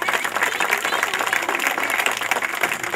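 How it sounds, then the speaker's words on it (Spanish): A crowd at a gift-giving event breaks into hearty applause for the children, many hands clapping in a full, steady roar with a little crowd murmur mixed in. "Quiero pedirles un fuerte aplauso a los chicos"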